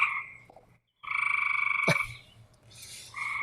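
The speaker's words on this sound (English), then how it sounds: "The frogs, like I said, the frogs are going nuts." Frogs croak close by in loud, buzzing bursts, a few calls separated by short silent gaps.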